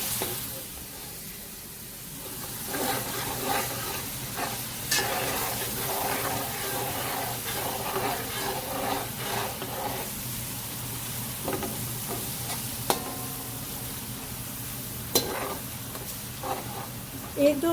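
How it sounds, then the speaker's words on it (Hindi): Garlic and ginger frying on high flame while stirred with a spoon, a steady sizzle with intermittent scraping and clinks throughout, and a voice speaking over it. "ऐड करने के साथ ही हम चम्मच चलाएंगे और उसकी अच्छे तरीके से भुनाई करनी है।"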